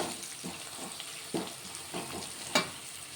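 A spoon stirs turmeric through a frying fenugreek and broad bean curry, faint soft scrapes over a steady low sizzle, with a few sharper clinks.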